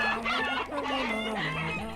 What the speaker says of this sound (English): And Ko makes chicken sounds.